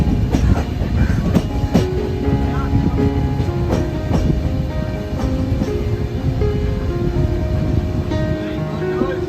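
An Indian Railways passenger train rolling along the tracks with steady rhythmic clickety-clack and a constant rumble, heard close from inside a carriage with faint voices.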